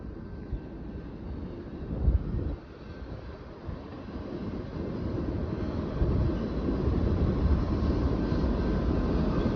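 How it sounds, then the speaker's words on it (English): A short Canadian Pacific train rolls past at Edmond as a steady rumble that grows louder toward the end, with wind noise mixed in and no talking. "There's the end already. Man, that was a short train."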